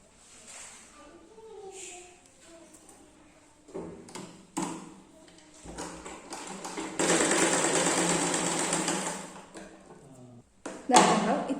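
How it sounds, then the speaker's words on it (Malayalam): A sewing machine stitches down the folded edge of a princess-cut blouse, giving a sustained mechanical whir for several seconds, with shorter bursts and handling noises around it and someone talking in between. "അതിന് മുൻപായിട്ട് നമുക്ക് ആദ്യം ഈ ഭാഗം ഒന്ന് മടക്കി സ്റ്റിച്ച് ചെയ്യാം."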